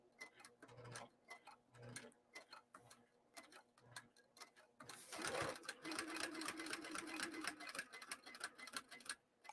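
A sewing machine sews through thick bag fabric on a long stitch length, first in slow separate ticking stitches, then in a louder, faster continuous run.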